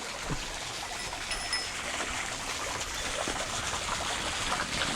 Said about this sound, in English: But it must be natural spring water coming down.